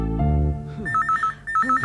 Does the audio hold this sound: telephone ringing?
yes